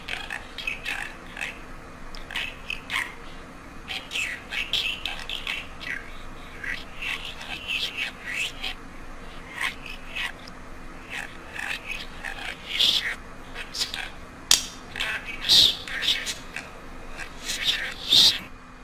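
A talking bird makes a string of short squawks, chirps and speech-like calls, close and moderately loud, in irregular bursts over a faint steady hum.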